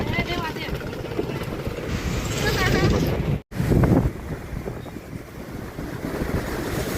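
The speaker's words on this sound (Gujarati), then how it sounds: "બે કાંઠે આજે મચ્છુ નદી જઈ રહી છે" The flooded Machchhu river at Wankaner rushes between its banks as the dam overflows, a loud, constant roar of water mixed with wind buffeting on the microphone. A voice speaks over it, and the sound breaks off briefly midway.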